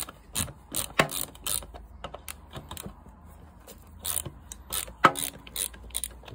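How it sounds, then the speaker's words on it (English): Ratchet turning a 10mm nut on a 1997 Yamaha XV535 Virago motorcycle, close, sharp clicking in irregular bursts with short pauses between strokes. "There's a ratchet. That's 10mm by the looks of it."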